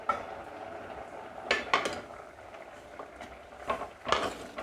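A pot lid lifted and pumpkin curry stirred with a metal spoon, several bright clanks and scrapes against the pot over a soft background hiss.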